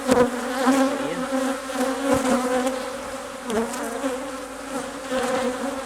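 Honey bees buzz constantly around an opened backyard hive as a super is added. The droning is close and dense, swelling and dipping slightly, with no talk.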